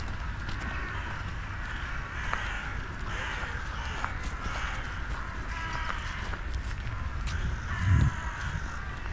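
Crows caw repeatedly at a moderate distance over a steady outdoor background rumble, with several harsh calls spread across the scene.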